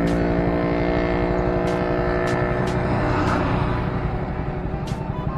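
Yamaha Mio 115 automatic scooter easing off the throttle and braking to a stop, its close engine note winding down steadily with faint clicks over it.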